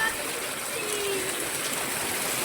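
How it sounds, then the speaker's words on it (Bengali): Heavy rain pours in a constant, close, hissing wash, steady from start to end with no break. "বৃষ্টি দেখো, বৃষ্টি কি হারে বৃষ্টি হচ্ছে।"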